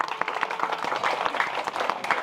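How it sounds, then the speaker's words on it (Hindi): Audience at a spiritual talk clapping briefly, a quick patter of individual claps, moderately near and fairly loud, with no voices over it. "इनके लिए जोरदार ताली बजाओ।"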